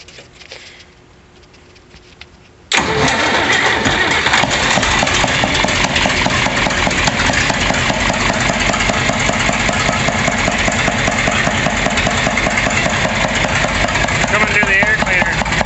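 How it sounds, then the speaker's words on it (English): A John Deere 4010 tractor with a stock intake valve cranks and catches after a quiet stretch, then settles into a loud, steady, rhythmic chugging idle that runs to the end with no talk over it. "I'll fire the 4010 up here, guys, so you can hear what she sounds like with the stock valve"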